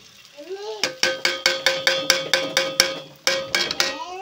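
Eggs are added to a pan of browned, fried onions: a close series of about a dozen evenly spaced metallic clanks and knocks against the pan, with short rising squeaks at the start and end.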